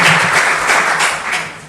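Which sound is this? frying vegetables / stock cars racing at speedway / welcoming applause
welcoming applause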